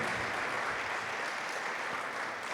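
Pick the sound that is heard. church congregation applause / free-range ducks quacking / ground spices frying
church congregation applause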